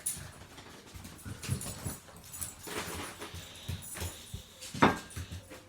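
A hyperactive pet dog moves around close by with scuffling, soft whimpers and snuffles, then gives a sharp yelp near the end, with no talk.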